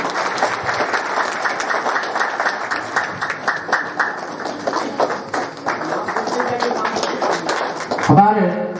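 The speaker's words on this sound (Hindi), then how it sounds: "ताली बजाते रहिए, ताली बजाते रहिए आप लोग।" Audience applause at a folk song and culture festival honour ceremony, continuous loud clapping from a crowd with a voice talking over it, ending in a brief noisy thump.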